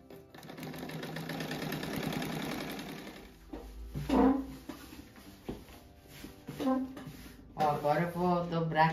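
A sewing machine stitching a patchwork quilt runs in a fast, steady mechanical whir for about three seconds, then stops as someone talks in bursts afterward.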